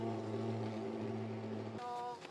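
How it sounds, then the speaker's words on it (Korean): A motorcycle-mounted smoke fogging disinfection machine running with its engine droning in a steady tonal hum, which cuts off abruptly near the end and gives way to a higher, thinner whine. "오토바이에 달린 연막 방역기에는 모두 5리터의 소독 약재가 들어갑니다"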